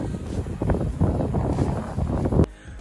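Wind buffets a hovering DJI Tello drone high in the air outdoors, making loud, gusty rumbles that rise and fall before dropping away abruptly near the end.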